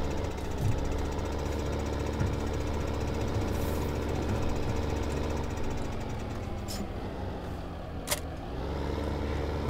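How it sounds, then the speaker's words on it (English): Combine harvester engine in Farming Simulator 2015, a steady low mechanical drone with a knocking rumble that runs continuously and fairly loud throughout, with a couple of brief clicks near the end. "So there's the combine harvester, that is going nicely."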